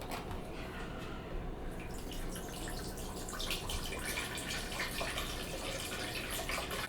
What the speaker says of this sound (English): So I'm going to start with coconut water.